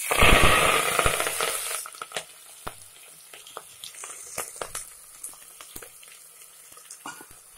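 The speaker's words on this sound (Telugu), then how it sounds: "ఉల్లిపాయలు చాలా ఫ్రై అయిపోయినాయి చూడండి" Onions frying in a few spoonfuls of oil in a pan for mutton curry, a loud, dense sizzle at first that fades within a couple of seconds into scattered soft crackles and pops.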